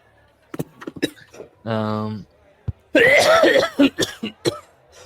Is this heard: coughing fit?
yes